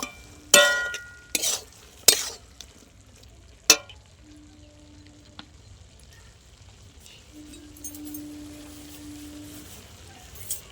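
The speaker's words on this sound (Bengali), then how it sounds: "একটু নেড়ে নেব।" Spoon clinks sharply against a pan a few times while a spinach, radish and bori vegetable curry is stirred, followed by a soft low simmer with a faint tonal hum, no talking.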